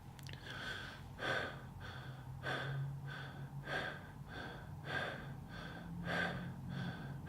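Fast, rhythmic breathing exercise: regular sharp breaths repeat roughly every 0.7 seconds, close and clear against a quiet background with no talking.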